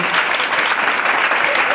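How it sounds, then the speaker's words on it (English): Audience applause at a church-style gathering honoring a woman's encouraging word, a dense, steady wash of many hands clapping, loud and sustained throughout without a break. "Let's clap our hands for her"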